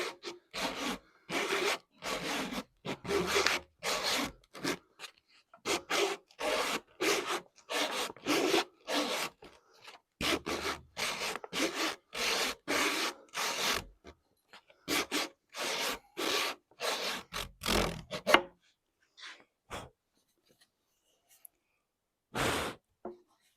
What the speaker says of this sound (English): alternate between sanding the bottom of the joint and the top